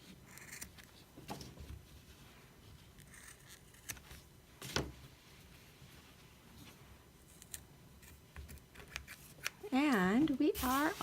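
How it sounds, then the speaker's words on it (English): Scissors snip macrame cord ends in a few separate close cuts, soft and irregular. Background noise sits underneath, and a louder warbling sound closes the clip. "I'm just gonna snip them."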